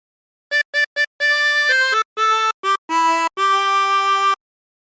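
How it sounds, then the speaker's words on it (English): Chromatic harmonica playing a phrase: three short separate notes, then a longer run of held, clear reedy notes with brief gaps, played alone and close with no talking. "practice this until you end up with something that sounds like this"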